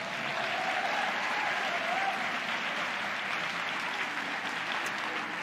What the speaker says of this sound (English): give yourselves a round of applause for coming out this evening